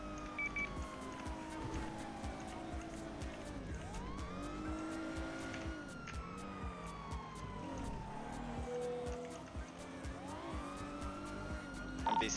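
Police car siren in a role-play video game, a continuous wailing tone that sweeps up and down over a steady engine rumble, fairly loud and sustained, with no talking.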